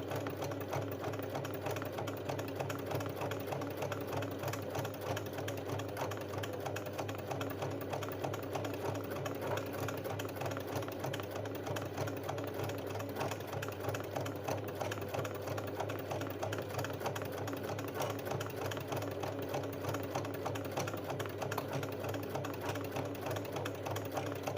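A sewing machine runs steadily for a long stretch, its needle hammering in a fast, even rhythm as it sews a close, straight stitch for machine embroidery. The mechanical chatter is near and continuous, with no talking.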